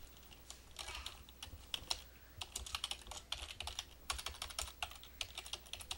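Quick bursts of keystrokes on a computer keyboard while entering a chart title in Excel, soft and close, irregular clusters of clicks with brief pauses between them.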